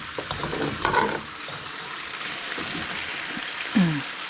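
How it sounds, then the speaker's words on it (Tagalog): Bringhe, a rice dish cooked with chicken blood, being stirred in a pan, a low sizzle under a few scraping and clattering stirs, close by with no talk. "Habang hinahalo ito, ganoon ang pagluluto ng bilinhi."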